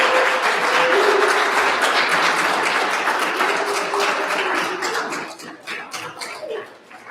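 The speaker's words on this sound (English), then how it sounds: "let's give AJ another round of applause there" Applause from a recovery speaker meeting audience in Las Vegas, a loud full round of clapping with some cheering that tapers into a few scattered claps.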